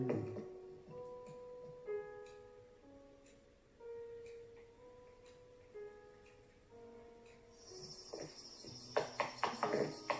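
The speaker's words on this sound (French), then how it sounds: "Donc vous avez tous les cigales." Cicadas buzz and trill in a warm outdoor setting, steady high chirping running under a sparse sequence of tonal electronic or bird-like notes, then growing louder and harsher toward the end.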